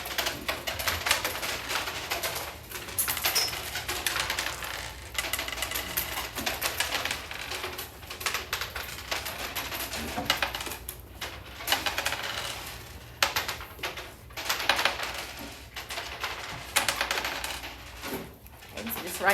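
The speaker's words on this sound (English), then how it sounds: "take your dice. I only want you to roll it 3 times and write down the number you get each time" Dice are rolled on desks during a classroom lesson, making quiet, scattered clattering clicks that repeat throughout.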